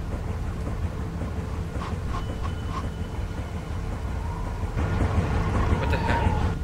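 Thunderstorm in The Walking Dead video game: a steady, heavy low rumble of thunder and rain that swells louder partway through, with faint higher tones over the roar.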